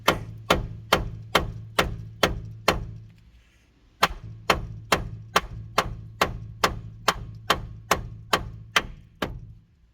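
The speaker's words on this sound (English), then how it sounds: "you get your hammer and you can then just whack" Sharp metallic hammer strikes on a Hyundai i30 outer track rod in a steady, rapid series, a short pause, then another run of evenly spaced whacks ringing close up.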